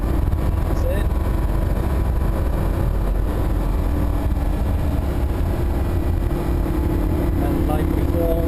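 A Lamborghini Huracan's engine drones steadily and loudly on a race track, a continuous low rumble filling the whole stretch with no clear gaps while an instructor's voice talks over it.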